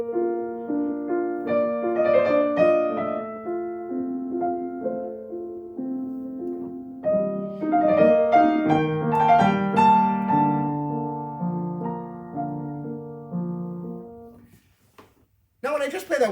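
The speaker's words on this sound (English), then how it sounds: "If you played Mozart, for example, with rubato, it would sound like this" Solo piano plays a short Mozart phrase with rubato, its notes swelling and easing in uneven tempo, clear and close, for about fifteen seconds before falling silent.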